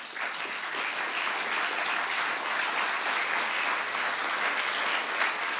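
A lecture audience gives Jim Lichtman a round of applause at a talk on humanity's future, producing sustained, dense clapping that stays loud and even from start to finish.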